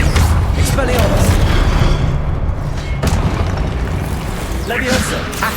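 Spell cast in the Hogwarts Legacy video game on Xbox Series X, a dense booming magical burst with rumbling low energy and crackling bursts, continuous and loud throughout, with game sound effects layered over one another.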